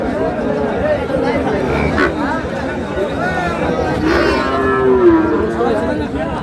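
A bull calf moos at a busy cattle market, its low lowing rising briefly above dense crowd chatter and haggling voices nearby.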